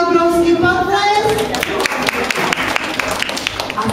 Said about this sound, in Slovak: Tak Šaškovi obrovský potlesk.